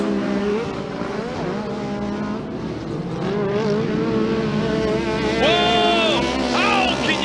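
Production 1000 UTVs racing three wide on a short course dirt track, engines revving and rising in pitch as they pass, with a commentator talking over the steady mechanical roar.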